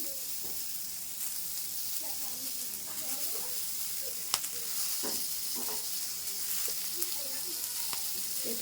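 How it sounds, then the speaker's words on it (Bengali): Broccoli frying in a pan, a continuous close hiss and sizzle with light stirring scrapes and clatter running throughout. "এর মধ্যে একটু ব্রোকলিটা একটু ফ্রাই করে নেব"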